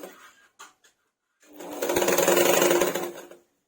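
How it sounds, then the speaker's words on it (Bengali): A sewing machine runs a seam on a cloth bolster pillow cover. After a few quiet handling noises comes a single burst of rapid, buzzing stitching that lasts about two seconds and then stops. "সেলাই করে নিচ্ছি"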